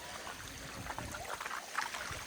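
A waterfall on the Bhimashankar trek gives off a steady, soft rushing wash of water, heard from a distance with no talk.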